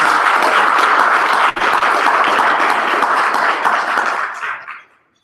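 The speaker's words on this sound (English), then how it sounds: "Can we have a round of applause for all the hard work Katie's been doing since the beginning?" A crowd at a business lunch applauds for several seconds, loud and dense with sustained clapping that fades out near the end.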